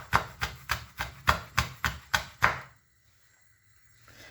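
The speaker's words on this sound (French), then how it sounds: "on va venir émincer des petites rouelles" A knife slices young onions into thin rings on a board, nine crisp, evenly spaced chops in a quick steady rhythm, close up, followed by near silence.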